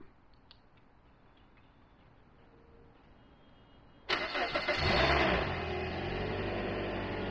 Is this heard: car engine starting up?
yes